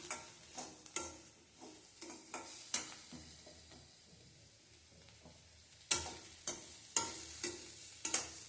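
Grated coconut stir-fried in a pan gives quiet, intermittent scraping and stirring strokes with a soft sizzle, pausing in the middle before a few sharper clinks of the spatula near the end.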